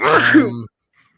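A single sneeze, short and fairly close, bursts out and then cuts off into silence.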